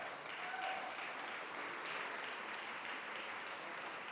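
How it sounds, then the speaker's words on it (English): A crowd at a mayor's arts awards ceremony applauds, a steady wash of clapping held evenly throughout, heard at a distance and fairly soft. "Can we have a round of applause for that?"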